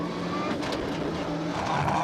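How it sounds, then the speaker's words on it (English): A Ford Sierra Cosworth rally car in a 1999 rally pulls away from the stage start with a loud, steady engine roar and faint tire noise, heard close throughout. "blasts away into the first stage in his Sierra Cosworth"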